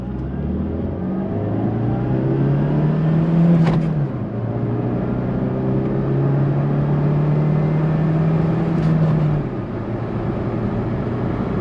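A car with its check engine light on pulls away from a complete stop, its engine rising in pitch as it accelerates through the gears, loud and close, with brief pauses at each shift and no talking.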